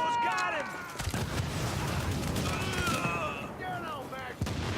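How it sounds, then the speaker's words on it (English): In the video game The Division, a blast booms amid rolling gunfire and a sharp crack, with whistling, sweeping game effects overhead and people talking over it. "It's funny that that explosion also blows up like car tires and stuff"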